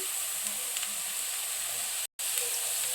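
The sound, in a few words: onions and curry leaves frying in oil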